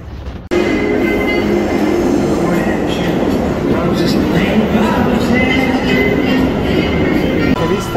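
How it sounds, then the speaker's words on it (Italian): A New York subway train car rumbles loudly and steadily from inside after an abrupt start, with a constant roar of wheels on rails, faint high squeals and clatter throughout, and speech partly buried under the noise. "Questa è la carrozza di Supreme della metro di New York"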